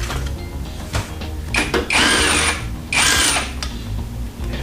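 A power tool whirs in repeated bursts, two long loud runs among shorter ones, as it backs the foot peg bolts out of a 1971 Harley-Davidson Sportster barn find, close up with no talking.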